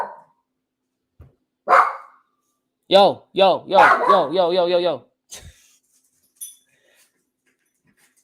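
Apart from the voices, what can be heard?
dog barking and whimpering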